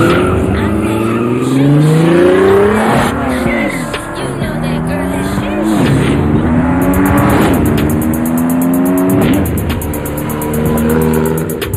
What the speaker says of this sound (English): Oh, they drag racing.